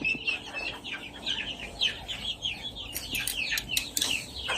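Chickens and young chicks in a small backyard poultry farm in General Santos cluck and peep steadily, with several overlapping short calls close by and sharper chirps bunching near the end.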